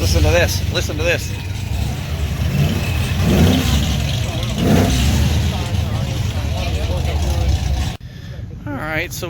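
A Ferrari engine revs at a Coffee and Cars meet in Oklahoma City, a loud, close roar that rises and falls in throttle blips under steady crowd chatter and nearby talk before cutting off abruptly.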